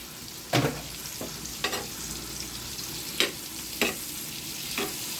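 Onions and green chili stir-fry in a pan for sizzling squid, a steady close hiss of frying broken by a few sharp scrapes and clacks of the spatula.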